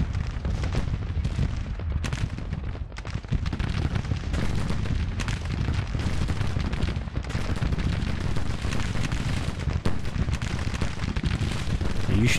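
Repeated artillery fire in the Grand Tactician strategy game, a dense, continuous barrage of booming blasts and crackling gunfire rolling on without a break, loud and sustained throughout.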